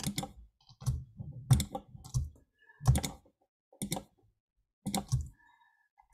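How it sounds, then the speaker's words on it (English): Sharp computer mouse clicks come in separate bursts, some single and some doubled, close and fairly loud, with short silences between them and no talk. "Let's click on that,"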